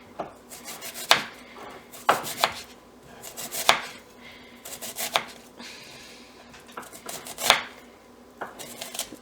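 Half an onion sliced lengthwise with a knife on a board for Kerala onion fritters; sharp, close chopping strikes land roughly every second, each with a short scraping tail.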